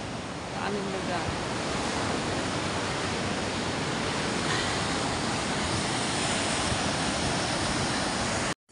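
Sea waves washing onto the shore at Bukana beach in the early morning, a loud, dense, continuous roar of surf that holds steady throughout before cutting off abruptly at the end.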